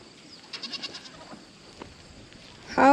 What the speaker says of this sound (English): How can this big goat and fat belly fit through a cattle panel?